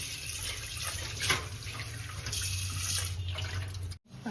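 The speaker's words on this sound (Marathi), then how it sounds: "त्यांना स्वच्छ धुवून द्यायचे" A new clay cooking pot is washed clean under running water. The steady tap flow splashes continuously and close by, with small clinks, then cuts off sharply near the end.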